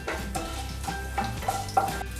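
Mustard seeds and cut chilli fry in oil in a pan for a thoran, a soft close sizzle with faint stirring clinks over a quiet musical background.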